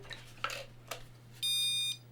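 A few short clicks and taps, then one sustained electronic beep held for about half a second as a brushless RC car's remote pairs, close and clear.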